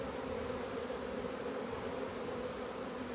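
A swarm of bees gathered into a cluster gives off a continuous, even buzzing drone. It is fairly soft and unbroken throughout, with no voices.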